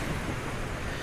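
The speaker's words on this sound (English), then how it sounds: "enjoying the sound of the waves splashing" Sea waves wash and splash against wellies worn by someone standing in the water at the shore, a steady soft rushing surge, faint and close, with no voices.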